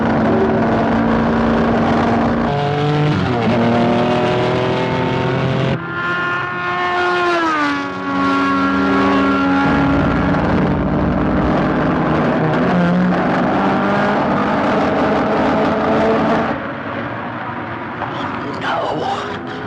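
Race cars roar around a circuit, engines loud and sustained with rising and falling pitch as they pass, under a commentator's continuous talk.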